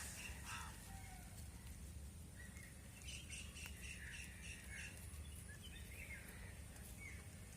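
Faint birds call in the distance at a village water-lily pond, scattered chirps and squawks over a steady low rumble of wind and outdoor noise.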